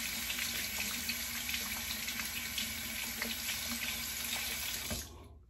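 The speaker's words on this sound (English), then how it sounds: "I'm gonna rinse." Tap water runs steadily into a sink for several seconds as a face is rinsed after a safety razor shave, with small splashes and then a quick cutoff.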